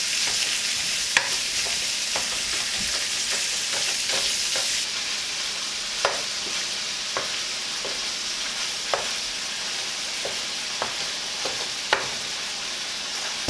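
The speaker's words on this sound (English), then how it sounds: "I'm going to put this in our frying pan and get this browning" Ground meat browning in a frying pan for a keto breakfast casserole, with a steady broadband sizzle throughout and a series of sharp spatula scrapes and stirring clicks spaced every second or two, close and alone with no talk.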